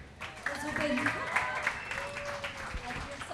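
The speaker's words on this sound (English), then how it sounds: "Can we have one round of applause," Crowd applause at a film song launch event rises beneath overlapping voices and a background musical tone, the clapping moderately loud and continuous while people talk over it.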